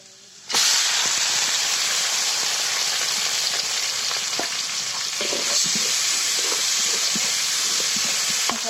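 Onions, crushed chili and garlic, and lentils hit hot oil in a kadai with a sudden loud burst of sizzle, then a dense, steady hiss of frying with occasional soft stirring scrapes.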